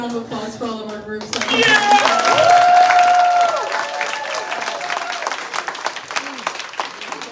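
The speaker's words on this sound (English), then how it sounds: "let's get another round of applause for all of our groups" Students at a fall callout meeting give a round of applause and cheering for the performing groups. A voice speaks first, then loud, dense clapping swells in and gradually thins out.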